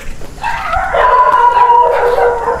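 A dog at a mansion in Laguna howls loudly and close, its drawn-out wavering cry rising and falling over nearly three seconds, with a short bark at the start.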